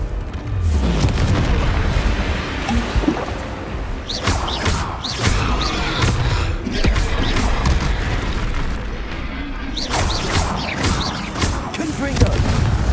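Booming blasts of the Confringo spell in the video game Hogwarts Legacy, repeated explosions and crackling bursts over dense, loud continuous game noise throughout.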